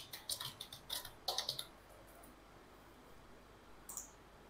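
A computer mouse clicks through checkboxes on an online application form: quiet, crisp clicks in two quick bursts, then a pause and a final pair of clicks, close and soft with no talking.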